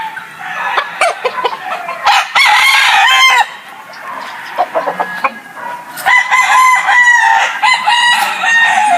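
A gamefowl rooster on a game farm crows loudly and up close, several drawn-out calls, while other chickens cluck around it in short bursts.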